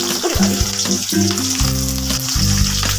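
Chopped onion hits hot oil in a wok, letting out a loud, close, continuous sizzle and frying hiss with light stirring, under steady background music.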